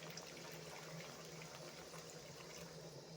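Water poured into a cooking pan over ginger-garlic paste while making a vegetarian spring onion dish, a steady, faint, unbroken splashing rush with no talking.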